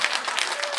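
Crowd applause at an outdoor performance on a beach in Yeongdeok, Korea, a brief, loud, dense patter of many hands clapping.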